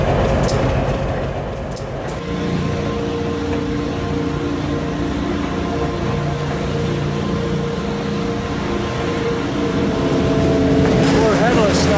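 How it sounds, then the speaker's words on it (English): A train rumbles steadily along the tracks with a low droning engine, continuous and fairly loud, with a brief lull early on. "Here comes our weakened engine."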